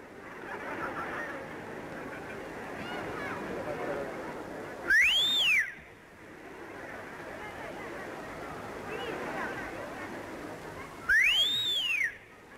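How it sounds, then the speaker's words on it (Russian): Two loud, sharp whistles from a boy in a circus audience rise and fall in pitch, several seconds apart, cutting through a murmuring crowd. "Кто свистит?"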